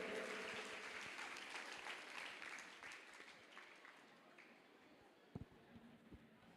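An audience claps together in sustained applause at a Guru Purnima gathering, a steady broad wash of many hands that thins out toward the end, with a couple of sharper knocks near the close.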